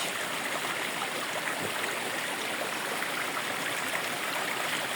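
Steady, broadband rush of water flowing continuously from Kabuayahan Falls, a nearby waterfall, with no voices.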